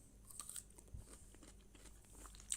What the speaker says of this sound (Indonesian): gigit buah dulu Bang